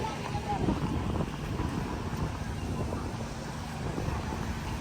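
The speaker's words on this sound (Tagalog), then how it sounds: "Enjoy nyo muna ang hangin." Steady wind rushes and buffets the microphone near a large wind turbine in Dinahican, with a low rumble throughout, constant and fairly loud, with faint background noise beneath.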